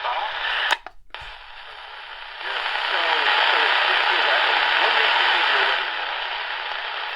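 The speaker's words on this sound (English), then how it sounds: "I'm hearing some talk there under the static, WWL New Orleans." AM radio static hisses from a DreamSky DS-209 portable radio tuned to a distant station, with a click and brief dropout early, then a thick, loud rush of noise with faint garbled talk buried beneath it.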